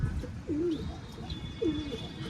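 A pigeon coos twice, soft, throaty and close, over a faint background hum.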